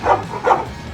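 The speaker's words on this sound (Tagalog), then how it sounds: "Rottweiler si Queenie" Rottweiler dog giving two short, close barks about half a second apart, moderately loud, with no talking over them.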